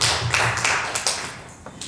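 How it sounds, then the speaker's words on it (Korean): A church congregation at a Sunday service applauds a singer, a dense wash of clapping that rolls on steadily at close range for a couple of seconds with no talk over it. "노래 너무 잘 불러준 부엘이한테 박수 한 번만 더 드리겠습니다."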